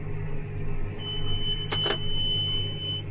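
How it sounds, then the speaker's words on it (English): A single short electronic beep from a baler monitor rings out over a steady low tractor engine rumble, with a faint high tone lingering throughout. "And then there's gonna be one more beep"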